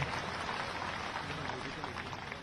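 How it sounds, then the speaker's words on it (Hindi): Dense applause from a large crowd at a political rally in Madhya Pradesh fills the whole stretch, steady and loud, with voices blending into the clapping. "जरा ताली बजाओ"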